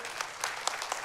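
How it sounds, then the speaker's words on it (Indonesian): Church congregation applauding during a worship service, a brief, soft, fairly distant patter of many hands with a few sharper individual claps standing out. "when you clap you mean it."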